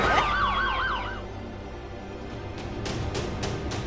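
An ambulance siren wails in rising and falling sweeps at the start, then fades, leaving a quieter stretch with a few sharp clattering knocks toward the end; no one speaks.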